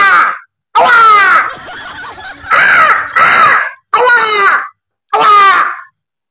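A man imitating a crow's caw with his voice, giving five loud, harsh, drawn-out caws separated by short pauses, very close to the microphone.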